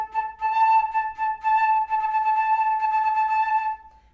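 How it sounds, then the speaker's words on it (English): Flute played with taka double tonguing on a single held pitch, a rapid stream of short articulated notes, clear and close, with no talking. "I would also incorporate exercises where everything is double tongued"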